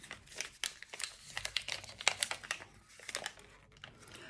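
A German snack package is torn open close up, its plastic wrapper giving a quick run of sharp crinkles and crackles in uneven bursts, fairly quiet, with no talking.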